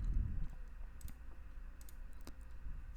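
Computer mouse clicks while working in Revit, several light, crisp clicks spaced apart over quiet room noise, with a brief low bump at the start.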